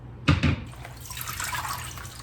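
Water from a kitchen tap pouring into a strainer, a couple of quick clattering knocks followed by a steady close splashing rush.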